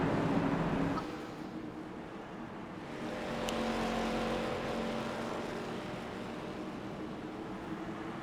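Race cars lapping Kansas Speedway in a racing video game, ARCA series: a droning engine roar that swells and fades as cars pass, moderately distant and steady, with no talk over it.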